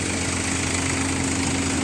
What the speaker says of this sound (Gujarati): આ રીતનું ફાયરિંગ છે ટ્રેક્ટરનું બિલકુલ પણ ટ્રેક્ટર લોડ લેતું નથી